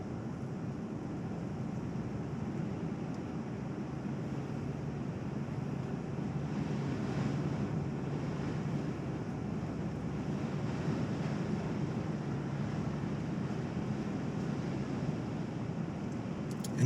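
Strong wind buffets a 2018 Jeep Wrangler Unlimited on the move, a steady, loud broadband rush with low rumble that holds evenly throughout, with no talking.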